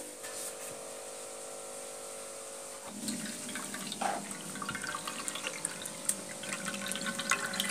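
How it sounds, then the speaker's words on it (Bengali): Water pours through a thick pipe as zebra fish and tank water are siphoned out together, a steady gushing flow with a low hum beneath that grows busier and splashier with drips and trickles partway through. "এই পাইপের মধ্যে দিয়ে মাছ এবং জল দুটো একসাথে চলে আসবে"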